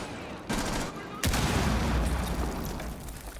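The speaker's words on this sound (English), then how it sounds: "Grenades going back and forth." Grenade blasts and bursts of gunfire in a Rainbow Six Siege esports match, with a sharp explosion followed by sustained loud rumbling and crackling under commentator talk.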